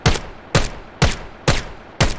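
Five evenly spaced single-fire gunshots from a weapon in the VR shooter VAIL VR, each a sharp close crack with a short tail, about half a second apart.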